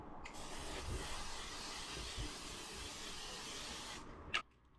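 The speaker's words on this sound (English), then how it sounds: "now I'm finally going to go in with my L'Oreal Infallible Setting Spray" A bottle of L'Oreal Infallible Setting Spray misting in one long continuous hiss lasting about four seconds, close and steady, then a brief click as it stops.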